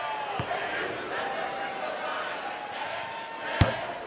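Crowd at a Wake Forest vs. Louisville women's basketball game reacts to a foul with a broad murmuring swell, punctuated by sharp slams and bounces, while a voice talks over it.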